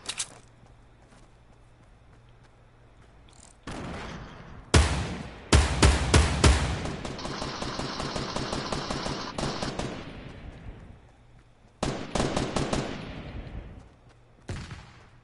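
Minigun fire in a shooting video game rips out in long rapid bursts, loud and close, separated by quieter gaps, with a final shorter volley near the end and no talking.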